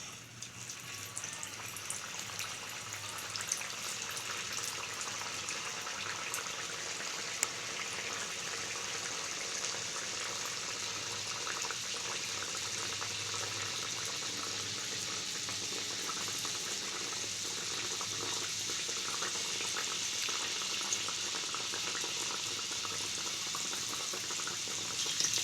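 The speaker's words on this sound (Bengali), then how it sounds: "তেল গরম হয়ে গেছে, এবার আমি পুরিটা দিয়ে দেবো" Dal puri deep frying in hot white oil, a steady broad bubbling sizzle that holds evenly throughout at moderate level, with no voices.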